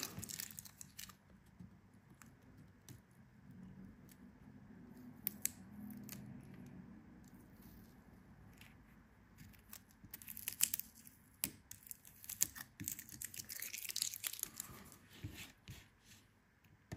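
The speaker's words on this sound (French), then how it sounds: "On va enlever le scotch que j'avais mis pour tenir les aimants, que le MagSafe ne se barre pas." Adhesive tape is peeled away from an iPhone 12 mini where it held MagSafe magnets, giving faint intermittent crinkling and tearing crackles over a quiet background, growing busier toward the end.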